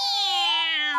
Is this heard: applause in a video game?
no